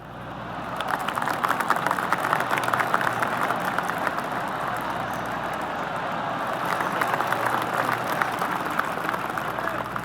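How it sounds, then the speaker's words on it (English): Golf gallery applause ringing around the 18th hole, a par 4, at Bay Hill Club & Lodge in the video game PGA Tour 2K25: steady, continuous crowd clapping over a soft ambient bed, moderately loud and sustained throughout. "I can hear the golf claps around the course."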